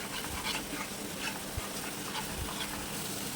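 Chicken bharta masala is stirred in a pan after garam masala powder is added, giving a steady sizzle with soft scraping strokes throughout and no talking.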